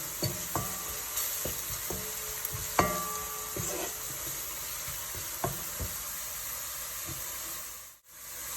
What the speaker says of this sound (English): just give it a stir, and oh my god, the smell. So the reason why I add the spices now is so they can get a bit toasted